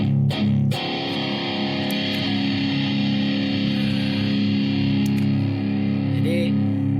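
Electric guitar run through a Zoom G5n multi-effects unit with the exciter effect switched on, a sustained distorted chord ringing forward and bright after an opening strum, fading slowly with a faint later note.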